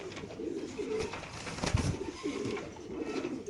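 Racing pigeons coo steadily at a pigeon farm, their soft, throaty calls repeating and overlapping at close range, with no talking.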